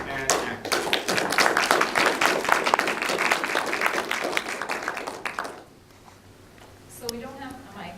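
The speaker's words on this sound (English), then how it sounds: "So please give it a round of applause for" Audience applause at a university talk for two guest speakers from an environmental society, dense steady clapping for about five seconds that cuts off, followed by quiet room tone and a voice starting to speak.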